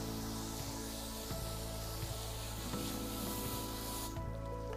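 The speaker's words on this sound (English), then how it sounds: "Next step is to use a hose to clean off all of the dirt that we've loosened up with the Scotch-Brite pad." A garden hose spraying water to rinse loosened dirt off teak wood, a steady close hiss of water running continuously throughout, no talk.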